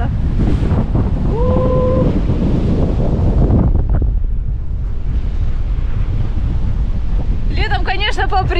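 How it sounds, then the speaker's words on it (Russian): Icy cold wind gusting across a seaside promenade in winter in Simeiz, Crimea, a loud steady roar buffeting the microphone with surf in the background and brief human sounds near the start and end. "ледяной ветер просто."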